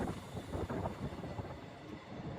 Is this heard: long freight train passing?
yes